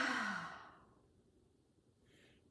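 A long, relaxed exhale through the mouth during a gentle yoga session, close and breathy, fading into near silence with a faint rustle near the end.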